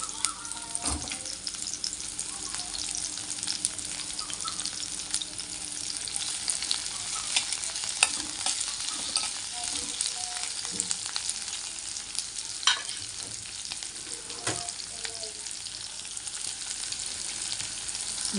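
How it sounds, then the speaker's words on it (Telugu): Onions and green chillies fry in oil in a pan for mutton curry, a close, steady sizzle with occasional stirring scrapes. "అందులో ముందు ఉల్లిపాయలు వేయించుకుందాం పచ్చిమిరపకాయలు కూడా వేసేద్దాం"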